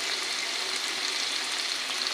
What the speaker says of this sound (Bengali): দেখো, এবার এটা দিয়ে ভালো করে কষাতে থাকবো, সুন্দর করে কষাবো।